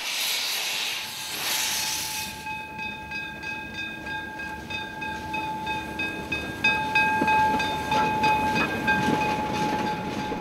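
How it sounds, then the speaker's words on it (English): Series 99 633 steam engine hauling a special passenger train to Ochsenhausen: a steady rumble of rolling wagons and rail noise, with sustained whistle tones sounding over it, at moderate distance. "The engine hauled an extra with the attending guests on board all the way to Ochsenhausen."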